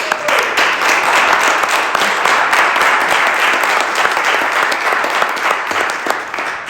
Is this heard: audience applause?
yes